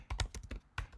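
Keys clacking on a computer keyboard as a few quick, close keystrokes are typed, with no voices.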